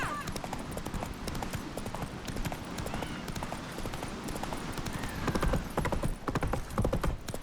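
Roach the horse gallops in The Witcher 3: Wild Hunt, its rapid, rhythmic hoofbeats close and continuous, with faint voices calling in the background.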